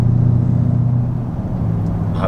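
Porsche Cayenne Turbo with a muffler delete drives along, its exhaust a loud, steady low rumble that drones on and shifts slightly in pitch, with a brief whirring rise near the end.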